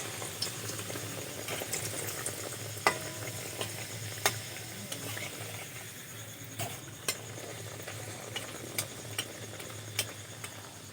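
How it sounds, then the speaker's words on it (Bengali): Aloo paratha fries quietly in a pan with a soft steady sizzle, punctuated by scattered light clicks and taps of a utensil against the pan, close but faint. "এইভাবে আমি সব পরোটাগুলোই ভেজে নেব।"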